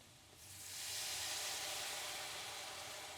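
Beef broth being poured and stirred into a hot pan with mushrooms, rising into a steady, close hiss of sizzle that swells within the first second and then holds, with no voices.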